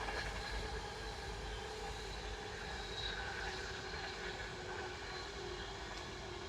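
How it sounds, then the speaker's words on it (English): A train passes at a distance on a very warm day in the UK, a low, steady rumble with a faint rising whine, heard on its own without any talk. "Another train."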